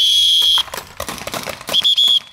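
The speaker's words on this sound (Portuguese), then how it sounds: "Vou apitar, hein." Referee's whistle during a paintball game: two sharp, shrill blasts, one at the start and a longer one near the end, with clattering noise and scuffling between them.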